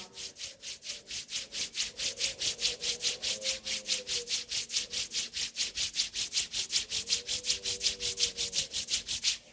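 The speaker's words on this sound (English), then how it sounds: "Rub your both palm." Two palms rub briskly together in a steady back-and-forth rhythm, close and dry, with a soft voice humming faintly underneath during a yoga session.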